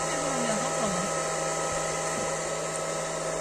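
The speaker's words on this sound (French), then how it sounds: "on envoie un sèche-cheveux pour sécher entre les deux." A hair dryer blows a steady, even whine into the gap under a lifted camper skylight to dry it, running continuously and fairly close.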